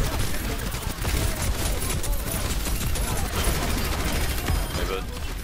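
Dense, continuous gunfire from the Overwatch video game keeps up without a break, with voices talking over the shooting throughout.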